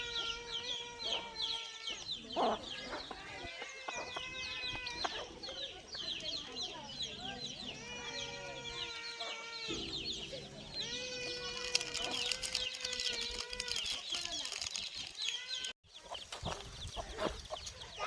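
Gavran free-range village hens and chicks on a farm cluck continuously in a busy flock, many overlapping calls near and far, with people talking in the background.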